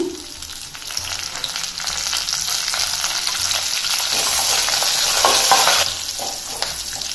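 Peppercorns and curry leaves sizzle steadily in hot oil for a tempering for katte pongal, a loud continuous crackle with a spoon stirring through it and a brief swell near the end, with no voices.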